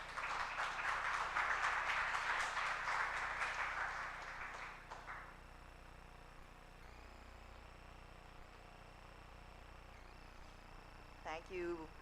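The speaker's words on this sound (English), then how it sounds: "a warm round of applause for Dr. Junis Demetrio Melgar." A conference audience gives a speaker a warm round of applause, steady clapping for about four seconds that fades out and leaves a quiet room hum.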